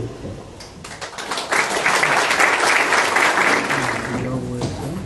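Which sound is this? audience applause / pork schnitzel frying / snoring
audience applause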